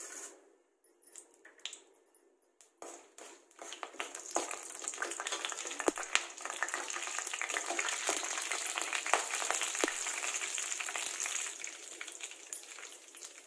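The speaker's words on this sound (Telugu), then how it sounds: "కొంచెం తిప్పుకున్నాము, కొంచెం వేగనిద్దాము." Mustard seeds and chana dal fry in a pan: after a quiet start with a few scattered pops, a dense crackling sizzle builds and stays steady, with occasional stirring clicks close by.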